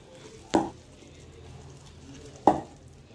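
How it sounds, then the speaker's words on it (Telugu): Sandwich filling ingredients, uncooked and with no onion, mixed together in a bowl: two sharp clacks of a spoon against the bowl about two seconds apart over a quiet background. "నేను ఇట్లా డైరెక్ట్గా అన్ని మిక్స్ చేసి"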